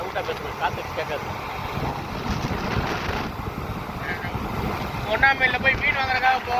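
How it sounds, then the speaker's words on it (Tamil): Wind rushing and buffeting steadily past the microphone of a moving motorbike on a rainy ride from Tamil Nadu toward Kerala, continuous and loud throughout, with faint voices and chirpy tones near the end. "சவுண்டா பேசணும், காத்து கேட்காது."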